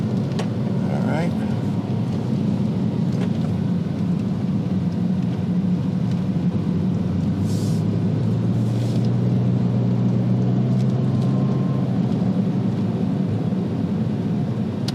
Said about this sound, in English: Folks, this is a perfect running little Porsche.